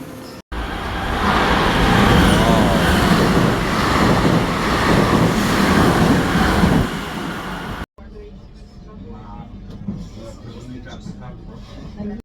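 A train pulls into Fiera Milano station in Italy with a loud, sustained rumble and rushing wind noise, and quieter ambient platform sound follows after a sudden cut.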